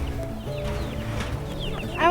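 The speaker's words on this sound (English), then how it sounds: "You want to help move the baby chicks?" Baby chicks cheep and peep in high, quick chirps while being moved, close by over a low rumbling background, with a few louder calls near the end.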